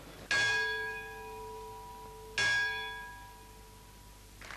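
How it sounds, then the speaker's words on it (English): Two loud strikes of the Lutine bell at Lloyd's of London about two seconds apart, each ringing out with a long, slowly fading metallic tone, with quiet room ambience in between. "Lloyds celebrated the successful salvage by ringing the routine bell."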